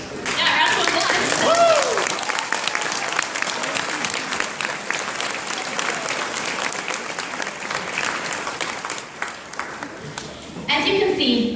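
At a graduation ceremony, an audience breaks into dense, sustained applause that lasts about eleven seconds and swells again near the end, with a speaker's voice faintly under the clapping.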